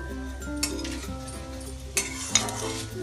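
Sugar, cinnamon, cardamom and cloves frying in hot oil for a chicken biryani kasa, a continuous sizzle with spoon stirring scrapes and light metallic clinks.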